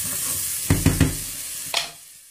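Small bacon pieces sizzle in a frying pan under a constant hiss, with a few sharp scraping stirs of a utensil against the pan close up before the sizzle settles.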